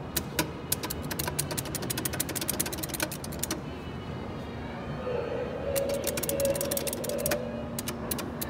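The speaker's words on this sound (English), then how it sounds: "These are some Schindler Modernized elevators at the Washington Reagan National" A Schindler modernized elevator runs at Washington Reagan National Airport, with rapid mechanical clicking and relay chatter that pauses, then a steady motor hum joins the resumed clicks, close and fairly loud.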